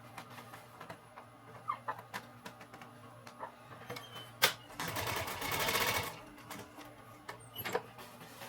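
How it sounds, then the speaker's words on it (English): A sewing machine stitching a simple homemade backpack, with scattered faint clicks and ticks before one short, loud run of stitching near the middle, then quiet handling again. "So I'm going to stitch just one quick stitch right here."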